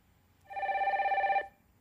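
A single telephone ring sounds alone against a quiet studio for about a second, as a viewer's call comes in to a live TV call-in show.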